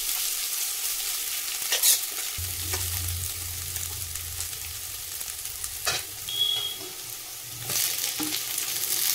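Green chillies, ginger and garlic frying in oil in a pan for a Bengali fish curry, giving a steady close sizzle with a few spoon-stirring scrapes and clinks throughout.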